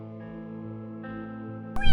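A small yellow cat lets out one short, bright meow right at the end, close and clear, after a steady tonal hum.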